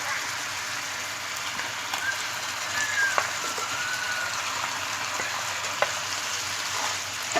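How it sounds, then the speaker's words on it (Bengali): Pre-fried chicken pieces stirred into cooked spice paste in a pan over medium heat, a continuous even sizzle like light rain with a few soft scrapes and one sharp clink, no voices. "ভালো করে নেড়ে চেড়ে আমি একটু কষিয়ে নিব"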